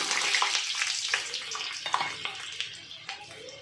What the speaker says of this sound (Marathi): तापलेल्या तेलात टाकले की कडक होतात शेंगदाणे